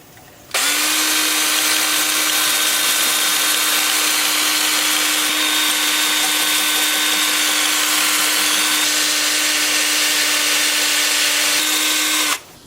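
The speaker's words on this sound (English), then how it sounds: "I'm gonna get to sanding and then we'll put some finish on the inside" A steady, high-pitched power sander whine on a live-edge cherry-plum wooden bowl runs continuously for about twelve seconds with a constant tone, close and loud, starting and stopping abruptly.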